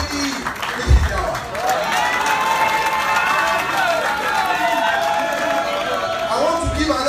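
An audience at a ceremony for Adeyeye Ogunwusi claps and cheers, a lively crowd roar with shouting voices carrying steadily throughout.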